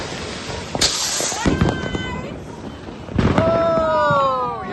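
Diwali fireworks go off outdoors: sharp nearby bangs and crackling bursts, followed by rising whistles of rockets launching, loud and repeated over a noisy festive background with people talking.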